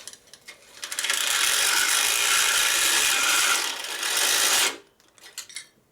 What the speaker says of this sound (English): And then drill right through it.